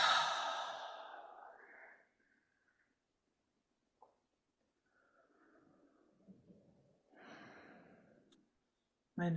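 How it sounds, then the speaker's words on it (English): A long, slow exhale empties the lungs completely during a guided meditation breathing exercise, loud at first and then fading to quiet, followed by faint scattered breath noises and a second softer breath near the end. "Emptying out completely."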